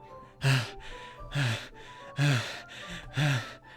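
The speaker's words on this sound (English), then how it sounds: "It sounds like breathing. A sharp inhale, like someone is sucking the air through their teeth." Four sharp, raspy inhales drawn through teeth repeat at a steady pace, close and fairly quiet, in the Doki Doki Literature Club video game.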